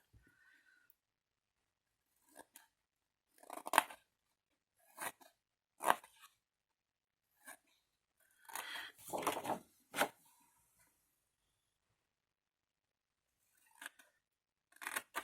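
Scissors snip through paper while making a gift box with four cubes, a series of short, crisp cuts spaced apart in a quiet room with long silent gaps, close up.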